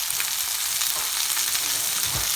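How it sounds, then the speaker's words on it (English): Potatoes and onions with a sazon seasoning pack sizzle loudly in a pan, a constant dense frying hiss with a few soft scraping stirs underneath. "I'm just gonna give it a little stir"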